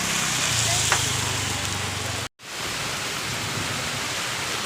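Heavy rain pours down outdoors in a dense, constant roar that drops out for a split second before resuming just as strong.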